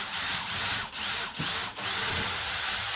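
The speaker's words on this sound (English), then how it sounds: "So now we're just going to take this drill bit and drill it all the way through." A power drill runs steadily through wood, its whine broken by a few brief dips as it bites and eases, loud and close with no voices.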